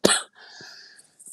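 A single sharp cough bursts out close by at the start, followed by faint breathy rustle and a couple of soft low thumps.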